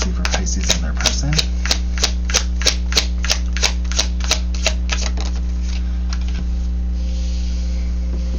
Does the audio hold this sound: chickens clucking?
no